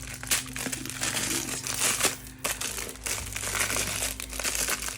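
Crinkling and crackling of a roll of Sennelier rice paper being handled up close, a continuous papery rustle with sharper crackles throughout, over a low steady hum.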